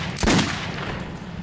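One short, loud blast of gunfire rings out in the video game Metro 2033 over a low background hum, then fades quickly.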